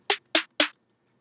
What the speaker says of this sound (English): the last drum I have here is just a snare drum that's gradually getting pitched down